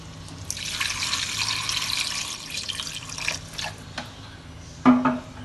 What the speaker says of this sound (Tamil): நண்டு முழுகிற அளவுக்கு நம்ம தண்ணி ஊற்றிக்கலாம்.